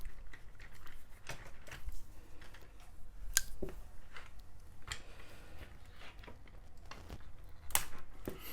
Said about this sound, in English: So let's cut some plastic.